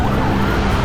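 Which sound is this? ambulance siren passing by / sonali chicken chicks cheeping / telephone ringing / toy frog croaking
ambulance siren passing by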